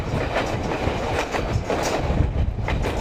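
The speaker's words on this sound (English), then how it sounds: "You can just see the way how the train just kind of goes with the flow of the land." A train on a Yukon shore excursion rumbles along the rails with a continuous clattering and rhythmic clicks, loud and close, with no voices.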